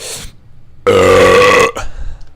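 A single loud, close burp lasting nearly a second bursts out of a quiet room, followed by faint rustling.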